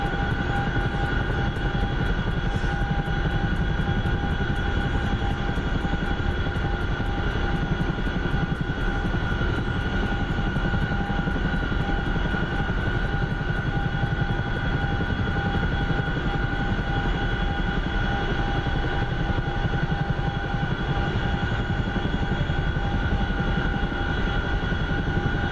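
A Chinook twin-rotor helicopter in a flight video game holds a loud, constant engine drone with a high turbine whine and steady rotor thrum throughout, with no speech.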